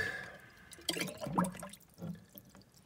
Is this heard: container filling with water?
yes